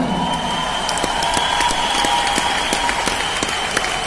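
A seated audience gives a welcoming round of applause at a direct selling event, continuous close clapping with distinct individual claps over a steady hall tone, loud and unbroken.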